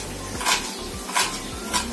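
Marinated boneless chicken fries in hot oil, giving a close, continuous sizzle with three louder bursts at regular intervals and a low rumble underneath, and no talking.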